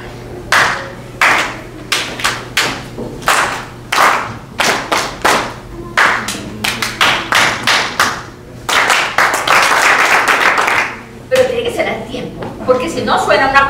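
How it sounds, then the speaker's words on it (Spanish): A group claps in rhythm at a children's storytelling workshop for mothers and babies, sharp hand claps coming in spaced bursts that speed into a dense, steady run before breaking off, with brief talk among them. "Aplaudimos con ella, no sabemos cuál es el ritmo que va a llevar."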